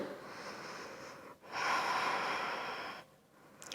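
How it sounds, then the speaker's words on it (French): Slow, deep breathing during a dynamic yoga session, a long airy inhale swelling into a louder exhale, steady and close with soft background hiss and no talking. "Prenez de profondes inspirations, de profondes expirations"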